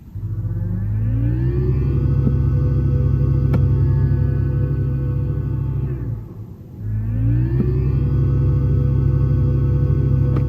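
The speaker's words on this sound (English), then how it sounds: "Vivid flux has sort of a sci-fi sound to it. Take a listen if you turn on vivid flux and accelerate." Synthetic sci-fi drive tone from a 2022 Mercedes-Benz EQS electric car in Vivid Flux mode while accelerating: a loud, sustained humming drone that rises in pitch, fades briefly around the middle, then swells and climbs again, with no talking.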